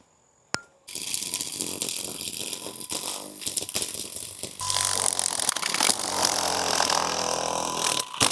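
A Saker weed whacker starts with a click, then its small motor runs loud and steady nearby, with the buzzing note shifting and intensifying partway through.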